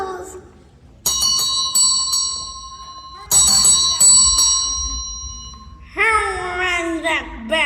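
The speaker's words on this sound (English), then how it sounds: "Ring the bell, Scarecrow. Let them know we are here." A bell clangs at a gate during a school stage skit of The Wizard of Oz, its bright ringing tones sustained and repeated, followed by a voice speaking loudly over lingering resonance.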